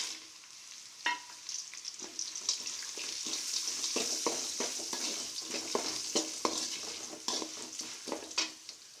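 Spices fry in oil in a pan for puliyotharai, a soft sizzle broken by repeated scraping and stirring clicks of a spoon against the pan at close range, with no talking.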